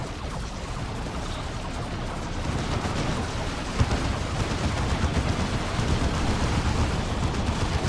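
Battle din from Dawn of War 2, Imperial Guard against Eldar, with a grenade blast landing amid a dense, continuous roar of gunfire and explosions; one sharper burst punches out near the middle.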